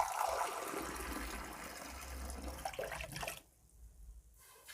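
Water rushes and pours steadily into a pot for chicken biryani for about three seconds, then stops abruptly, leaving near silence.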